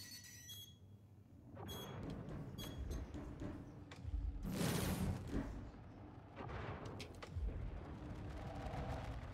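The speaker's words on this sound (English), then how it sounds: "The missiles will continue coming." Missile blasts in the space game Star Citizen, a loud broadband boom near the middle with smaller rumbling impacts and alarm-like tones around it, no talk.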